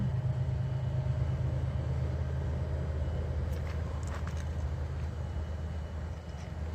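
A distant freight train labors up a grade at night, a low steady rumble throughout with faint higher clanks and squeals near the middle, no talking.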